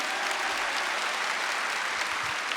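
A church congregation applauding during a Catholic sermon, a dense, steady wash of clapping from a large crowd that holds even throughout without a break.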